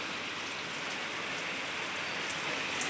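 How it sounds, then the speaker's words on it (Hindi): Sudden rain falls outside a house, a dense, even hiss of drops striking surfaces that holds steady throughout, with no talk. "अचानक से बारिश आ गई गाइस, आप देख सकते हो"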